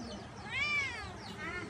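A cat in a village courtyard lets out a clear rising-and-falling meow, followed by a second fainter meow, close by over quiet background.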